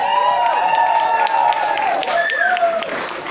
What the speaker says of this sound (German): Christoph Kraft da nochmal, großen Applaus.